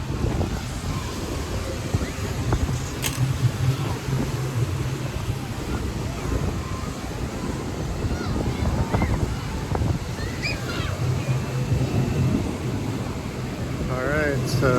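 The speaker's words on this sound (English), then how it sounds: "it's really, really windy today, so I'll just walk outside and show you around" Strong wind at Lake McConaughy roars and buffets the microphone continuously outdoors, a loud, steady rush with gust swells and no pause.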